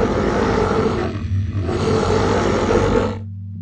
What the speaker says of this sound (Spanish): escuché un rugido que hizo retumbar el lugar.